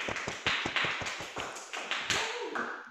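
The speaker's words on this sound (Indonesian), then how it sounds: "Mari kita sambut bersama-sama dengan tepuk tangan." An audience at a formal ceremony claps in scattered, uneven bursts, sharp hand slaps overlapping at moderate distance with no talking.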